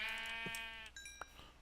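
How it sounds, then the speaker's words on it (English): Sheep bleating in the Minecraft video game, a single drawn-out wavering bleat up close, followed by a few brief chirpy game sound effects and a faint low tap. "I am going to kill these sheep, though."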